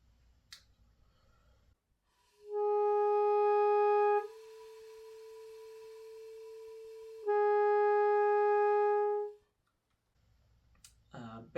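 Saxophone played incorrectly: a clear sustained tone that suddenly thins and drops out as the octave key opens, then the full tone returns briefly before stopping, with faint breathy noise around it.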